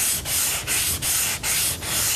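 Rhythmic strokes of a Würth flexible sander rasp across a metal car hood, about five long back-and-forth passes, loud and close with no talking.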